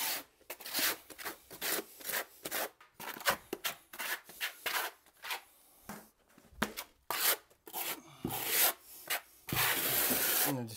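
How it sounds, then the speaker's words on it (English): Steel trowel scraping and pressing thin-set mortar onto a shower pan substrate over concrete in a tile shower build, heard as close, repeated rough rubbing strokes with short pauses between. "take your thin set and burn it into the substrate with the flat side of the trowel"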